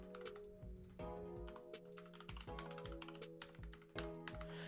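Password typed on a computer keyboard, a steady run of close, crisp key taps at an uneven pace with a few heavier thunks, over a low background hum.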